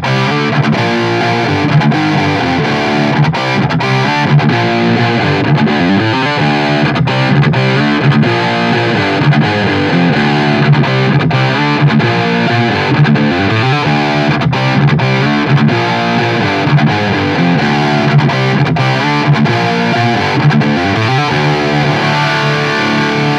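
Heavily distorted electric guitar played through AmpliTube 5 cabinet simulation with several speakers blended into the tone, sounding as a continuous loud riff of dense chugging chords, alone throughout.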